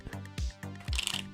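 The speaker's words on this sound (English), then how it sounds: "I don't know why I'm having such trouble today with the shuffling action" A tarot deck shuffled by hand in quick bursts, several soft riffling flutters and taps in an uneven rhythm, close and fairly quiet with no speech.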